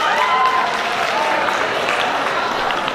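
A school community meeting crowd gives a round of applause, a loud, even wash of many hands clapping continuously, close by and uninterrupted.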